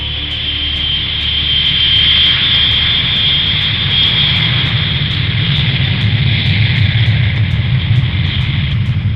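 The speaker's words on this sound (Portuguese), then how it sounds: "o piloto prossegue com a decolagem" A jet airliner on American Flight 1400 roars steadily during takeoff despite a serious left engine problem, a loud broadband engine rumble with a high whine sustained throughout.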